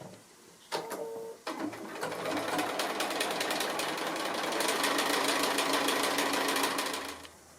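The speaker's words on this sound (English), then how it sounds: "I'll start sewing them, and you can chain piece them, you can feed them through one after the other" A domestic sewing machine chain-piecing fabric pieces runs in a steady, close, even whir of rapid stitching for several seconds, with a couple of short start-stop bursts at the beginning.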